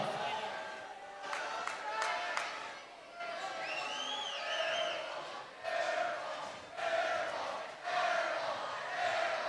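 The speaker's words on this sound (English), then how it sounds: "Crowd's really getting into it on this second shot." A crowd at a varsity boys high school playoff basketball game cheers and yells in rising bursts, fairly distant, with scattered shouts and whistles and some talk mixed in.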